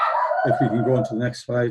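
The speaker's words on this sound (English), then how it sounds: "and again, I apologise for the dog." A possessive farm dog barks repeatedly at someone arriving on the farm, several loud close yaps overlapping a man's speech.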